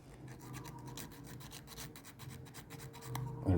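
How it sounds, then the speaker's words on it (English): Fine sandpaper rubs back and forth over small pegs of a model railway kit, a close, quiet rhythmic rasping of quick repeated strokes, ending with a louder handling noise. "There's a little bit of sanding needs to be done as well on these little pegs."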